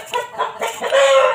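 A rooster crows loudly and close by, one drawn-out call that rises and holds at the end, with no talking.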